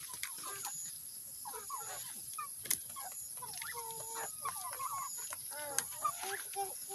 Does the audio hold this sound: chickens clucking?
yes